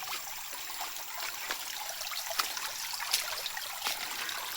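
A cool hillside creek flows in a steady, close trickle with a bright, hissing babble and occasional small splashes over a constant watery wash, and no one speaks.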